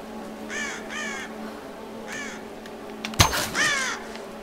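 Crows caw repeatedly in Tomb Raider's mountain village, several rasping calls in loose succession with a sharp thump partway through, all over a constant outdoor wind ambience.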